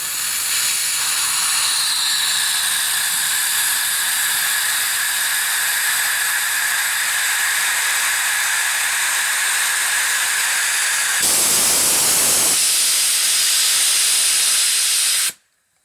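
Steady loud hissing of steam venting from a steam boiler, continuous for most of the clip, surging brighter and harsher near the end before cutting off abruptly.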